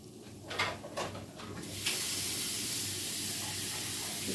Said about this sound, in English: You add a little bit of water